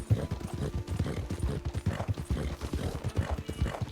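Rhythmic clip-clop of horse hooves on a dirt trail in the Red Dead Redemption 2 video game during a winter endurance race, steady repeated footfalls close up, with no voices over them.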